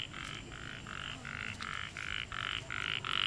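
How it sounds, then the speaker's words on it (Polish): A frog croaks in a regular rhythm of about nine rasping pulses, loud and close, against a low outdoor background during a family holiday in Phuket, Thailand. "Żaba!"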